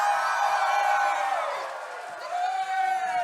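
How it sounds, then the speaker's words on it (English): A crowd in jousting-tournament stands breaks into loud, close cheering and whoops. The voices swell, dip briefly in the middle, then rise again. "Suddenly, Eduardo hears cheering and applause."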